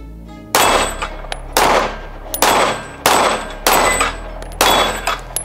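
Five loud gunshots from a Springfield Prodigy 1911 DS pistol ring out at a steady pace, each a sharp crack with a short echoing tail, with no talking between them.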